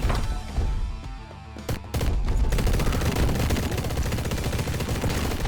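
Rapid video-game gunfire from the action game Mr. Shifty, dense overlapping shots and bursts over a continuous loud game soundtrack, with no talk.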